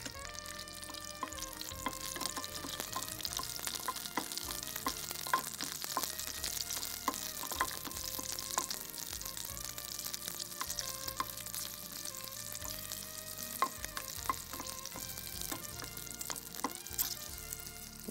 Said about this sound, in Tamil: இந்த சட்னி கொஞ்சமாக எண்ணெய், அதில் பச்சை மிளகாயை முதல்ல நம்ம உடச்சி சேர்த்துருவோம்.